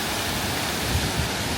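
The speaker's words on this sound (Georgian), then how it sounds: "და ქვემოთ აი ესეთი ჩანჩქერი აქვს." A waterfall below a small hotel and café roars in a steady, dense rush of white noise, loud and continuous throughout with no voices.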